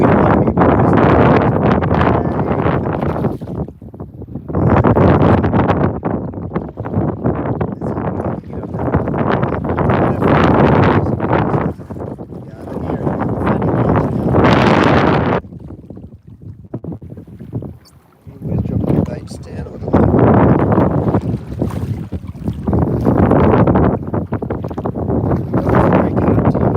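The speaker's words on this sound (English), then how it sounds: "Today, it's just the wind." Strong wind buffets the microphone outdoors on a fishing trip from a boat, loud rumbling gusts coming in long surges with brief lulls between them.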